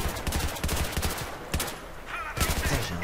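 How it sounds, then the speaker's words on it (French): Player's gun firing in Battlefield 3, heard as several quick bursts of automatic gunfire with sharp repeated reports, loud and close, separated by short pauses. "Et pourtant je tire dessus"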